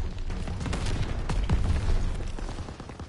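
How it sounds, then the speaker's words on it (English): Grenade explosions and battle noise in the Call of Duty WWII game, with dull booms and scattered gunfire rolling together through a dense, loud, continuous combat din. "I'll just keep throwing grenades"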